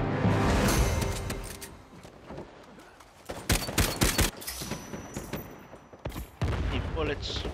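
Dense video-game gunfire from Uncharted: The Lost Legacy in a King of the Hill multiplayer match: loud, continuous volleys and bursts of automatic fire, with overlapping impacts and sharp shots throughout.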